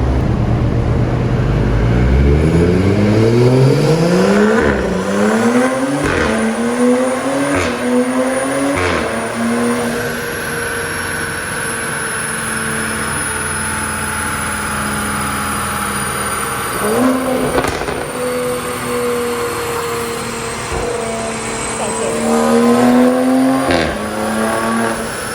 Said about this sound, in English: right now we're gonna roll through the gears and see what this baby sounds like.